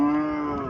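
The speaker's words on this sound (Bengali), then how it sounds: "এখানে একটা গাভী দেখা যাইতেছে" A healthy Haryana dairy cow gives a single long, low moo, loud and close, holding a steady pitch for the whole short stretch with no talk over it.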